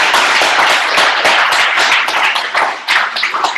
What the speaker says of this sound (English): Please give a round of applause to our new president, Senator Tammy Liu.